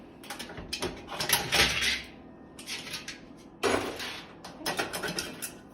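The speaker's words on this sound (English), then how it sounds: "We're going to then come up here and we're going to remove all the burners." Metal stove burners being lifted off and handled, clattering and clinking in short bursts of knocks and scrapes, close by, with pauses between clusters and no talking.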